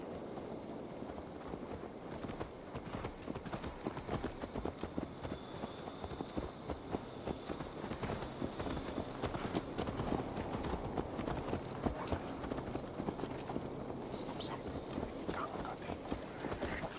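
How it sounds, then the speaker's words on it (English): A horse's hooves clip-clop steadily in Assassin's Creed Valhalla, a continuous run of close, fairly quiet hoofbeats that lasts the whole stretch with no talk over it. "Let's return the horse."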